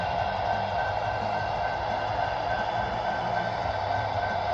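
A CSX model train running on a small loft layout: a steady, continuous rumbling hum with a faint whine, close and unbroken throughout.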